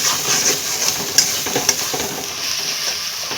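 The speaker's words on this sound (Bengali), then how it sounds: "সুন্দর করে এখন মশলাটা কষিয়ে নেব আর একটু।" Spice paste with turmeric and salt is stir-fried in oil in a pan, a steady sizzle broken by sharp spatula scrapes and taps against the metal, close and alone.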